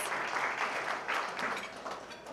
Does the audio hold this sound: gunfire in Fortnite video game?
no